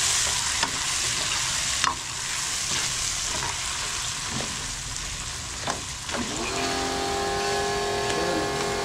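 Tomatoes sautéed in a pan with golden-browned garlic, onion and ginger give a steady, close sizzle with occasional stirring knocks and scrapes, and no one speaks.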